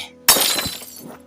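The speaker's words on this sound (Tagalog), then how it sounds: "napatabig niya ang isang mamahaling florera sa mga pintuan na nabasag sa sahig" An expensive flower vase falls and shatters on the floor, giving one sudden loud crash of breaking glass or ceramic followed by a brief scatter of tinkling fragments, close and alone.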